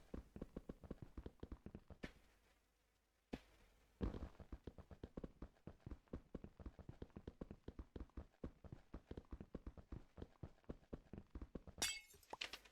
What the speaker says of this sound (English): I managed to successfully break the glass panes again.